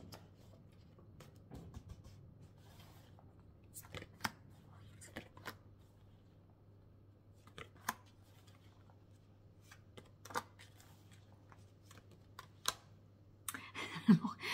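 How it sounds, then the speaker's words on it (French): Tarot cards being shuffled and turned over, with quiet, sparse snaps and flicks of card stock scattered through a calm room with a steady low hum, ending in a short denser rustle. "Je retourne les cartes."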